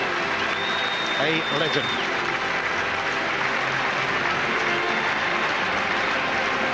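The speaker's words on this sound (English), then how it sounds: "The Kilmarnock fans give him a good send-off." Kilmarnock fans in a football stadium applauding Ally McCoist's farewell, a broad, steady roar of clapping and crowd noise throughout, with a commentator speaking over it.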